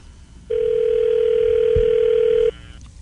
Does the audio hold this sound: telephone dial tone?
yes